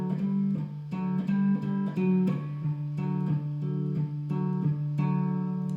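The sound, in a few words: guitar playing first intro pattern of a song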